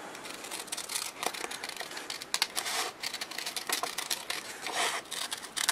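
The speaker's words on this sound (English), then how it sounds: "And then we can cut it out." Scissors snip through paper to cut out a shape for a pencil box and sticky-note holder craft, a close, quick run of crisp, uneven snips and light paper rustles with no talking.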